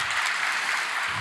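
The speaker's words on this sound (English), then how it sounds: "Let's give them a massive round of applause" Audience applause at a tech conference livestream in Toronto, a steady wash of many hands clapping at moderate distance, brief and continuous with no voices over it.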